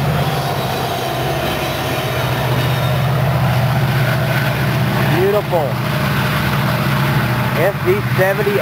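A Norfolk Southern coal train with a BNSF distributed-power locomotive rumbles past nearby in a loud, continuous roll, with brief high wheel squeals toward the end.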